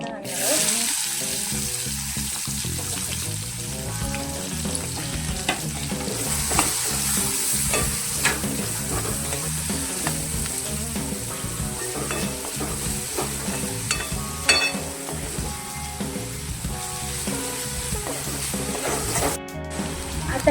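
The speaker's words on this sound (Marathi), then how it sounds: "आता आपण याच्यामध्ये बारीक चिरलेला कांदा घालणार आहोत." Finely chopped onion fries in a pan for paneer tikka masala, a sustained loud sizzle with repeated rhythmic scraping and clinking of a spoon stirring against the pan throughout.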